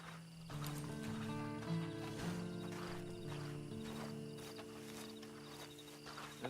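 Horse hooves clip-clop at a steady walking pace in the video game Red Dead Redemption 2 Online, fairly quiet and set against sustained ambient music tones.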